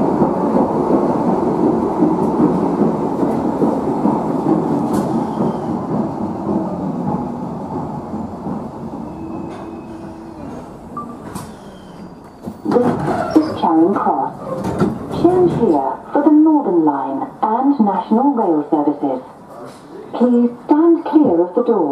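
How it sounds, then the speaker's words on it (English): A Bakerloo line 1972 stock train on an underground run, a loud rumbling roar of wheels on rails that drops away before high squealing, warbling wheel grind takes over, with a voice talking over parts of it. "on the wheels grinding on the rails"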